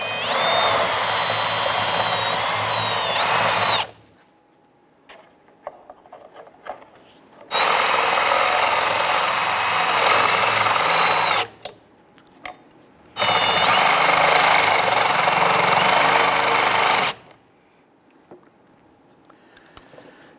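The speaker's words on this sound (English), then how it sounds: "So let's go ahead and drill out these rivets." Power drill boring out four rivets on a 2002-2008 Dodge Ram 1500 fuel tank filler neck held in a vise, loud close whining bursts of about four seconds each, three times, with quiet pauses between.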